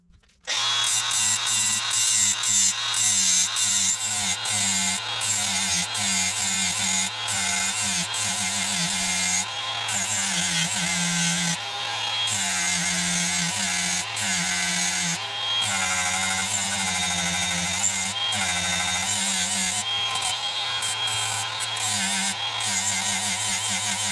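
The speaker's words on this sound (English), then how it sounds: "Okay, well, so we're gonna grind this." An angle grinder grinds steadily on a steering box being tapped for hydro assist, running loud and continuous up close with a harsh, even whine and slight pulsing throughout.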